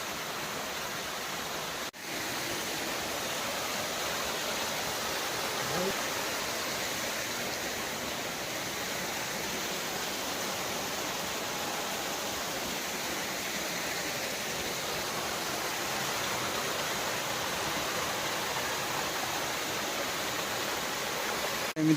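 Waterfall at Tapoban in Dhenkanal's forest, a continuous broad rushing roar of falling water, steady and fairly loud throughout with no voices.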